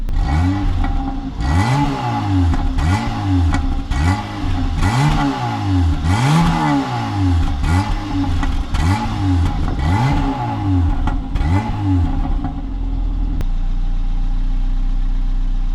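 A 1.4-litre car engine revs repeatedly in rising and falling surges, its exhaust crackling and popping like a rev limiter, loud and close, before settling to a steady idle.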